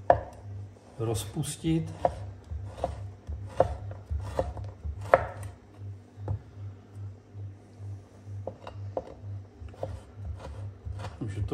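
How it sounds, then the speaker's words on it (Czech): A knife chops bacon into small cubes on a board, a series of sharp, close, rhythmic taps, with someone speaking briefly in between. "No a ještě tady mám slaninu, takže pár kostiček slaniny si nakrájím"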